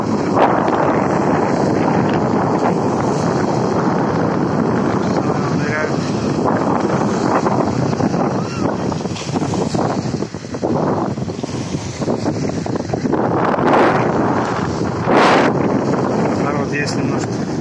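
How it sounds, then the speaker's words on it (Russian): Strong wind buffets the microphone in a steady, loud roar on a sunny sea beach, with surf and faint voices blending into the rushing noise. "Сильный ветер, извиняюсь, будет дуть, наверное."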